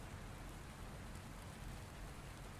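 Heavy, cold rain pours steadily as a dense, constant hiss with low rumbling undertones, close and unbroken throughout, with no voices.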